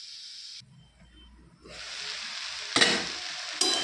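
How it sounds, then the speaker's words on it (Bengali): Salted, turmeric-coated banana stem hits a hot pan of curry with a sudden loud sizzle after a brief lull, then hisses steadily under bursts of stirring, close up. "নুন এবং হলুদ মাখিয়ে রাখা থোড়টাকে ভালো করে নেড়ে নিয়ে তরকারির মধ্যে দিয়ে দেবেন।"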